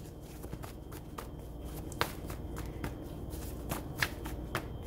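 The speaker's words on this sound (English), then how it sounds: "I like to shuffle on camera." Tarot cards shuffled by hand close up, a continuous papery riffling with soft flicks and a few sharper snaps of the deck, without any talking.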